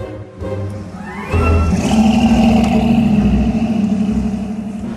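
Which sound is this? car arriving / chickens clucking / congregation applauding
car arriving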